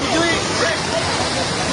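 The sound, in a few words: rushing floodwater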